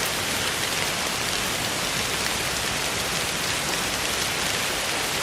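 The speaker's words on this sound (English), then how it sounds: "rain tapped against the canvas board" Rain patters on a tent canvas at a campsite as a dense, even hiss of countless drops. It holds at the same loud level the whole time, with no voices.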